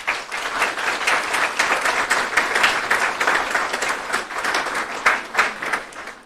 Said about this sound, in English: let's take a quick moment to recognize these graduates sitting here with a round of applause